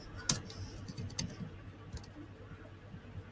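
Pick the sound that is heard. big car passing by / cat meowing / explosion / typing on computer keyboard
typing on computer keyboard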